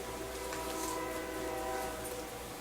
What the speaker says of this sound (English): I love that train horn.